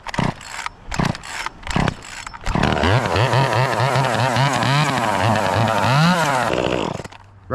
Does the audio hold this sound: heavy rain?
no